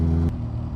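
Brief, loud, close burst of a Koenigsegg Agera RS engine, a strong droning tone that cuts off sharply partway through and leaves a rougher lower rumble.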